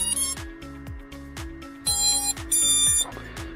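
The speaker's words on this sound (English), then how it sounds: "I can hear 3 beeps." An FPV drone receiver sounds a run of short electronic beeps while binding during a 5-inch freestyle drone build. The clear tones repeat at a steady pace, with a louder, higher burst of beeps near the end.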